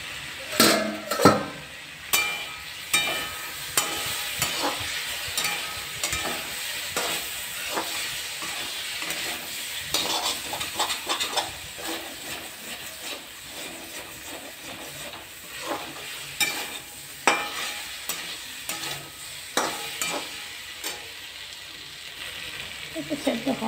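Potatoes frying in oil in a pan for a Bengali potato dish, a steady sizzle punctuated by repeated scraping and clacking strokes of a spatula turning them over.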